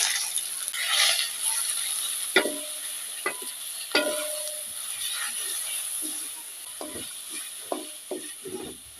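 Jute greens with dried chillies sizzle in a pan while being stirred. A constant frying hiss runs beneath sharp, intermittent clinks and scrapes from the spoon.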